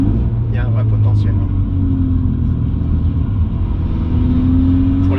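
A four-wheel-drive Volkswagen car drifts with its engine droning loudly and steadily, close and continuous, with a gear change mid-slide and people talking over the rumble.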